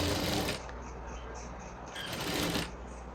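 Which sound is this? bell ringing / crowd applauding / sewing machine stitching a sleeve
sewing machine stitching a sleeve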